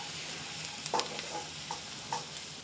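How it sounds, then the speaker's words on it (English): Garlic cooking in a pan for a Hong Kong–style black pepper sauce: a soft, steady sizzle runs throughout, broken by a few brief stirring clicks and scrapes, with no talking. "I'm gonna add my garlic. We're gonna let this cook for about 30 seconds."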